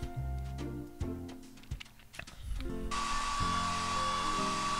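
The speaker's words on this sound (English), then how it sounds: "Tap the hair dryer to blow dry the pup's hair." Steady hair dryer whoosh from a PAW Patrol children's video game grooming scene, starting partway through after cartoonish bouncy tones and blips, then holding a constant airy blow to the end.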